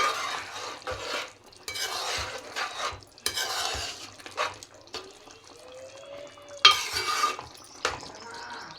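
A pot of bottle gourd chicken curry is stirred after garam masala goes in, with scraping and clinking of a utensil against the pan, soft wet sloshing and a faint sizzle, close and fairly steady with short pauses.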